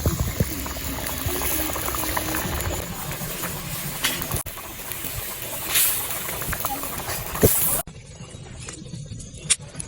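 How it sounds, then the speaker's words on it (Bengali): Water and spices boil vigorously in a pot of Bengali fish curry as pieces of fish are slipped in, giving a steady bubbling hiss with small splashes. Someone talks over the sound. "ভালোভাবে ফুটে গেছে, এবার আমি মাছগুলো ছেড়ে দেবো"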